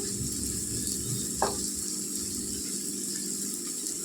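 Onions frying in a pan for Telugu-style spinach curry give a steady, moderate sizzle throughout, with one brief clink near the middle and no voices.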